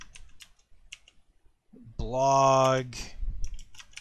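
Faint, scattered clicks of typing on a computer keyboard while building a Spider-Man themed blog page in Dreamweaver, with someone talking over them and a brief sung or hummed tone midway.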